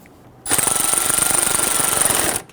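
Power driver running screws into a Dodge Charger windshield washer reservoir, one continuous rapid rattling burst of about two seconds, close and loud, with no talking.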